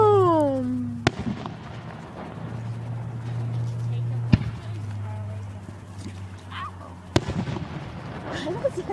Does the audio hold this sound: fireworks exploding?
yes